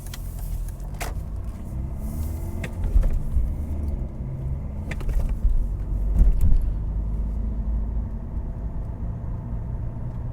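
Interior of a BMW E46 320d diesel sedan while driving, a steady low engine and road rumble filling the cabin throughout, with a few faint clicks and knocks from inside the car.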